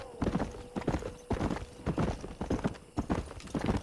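Horse hooves clip-clopping at a steady, rhythmic trot while riding in Red Dead Redemption, with repeated close hoofbeats running through the whole stretch and no talk over them.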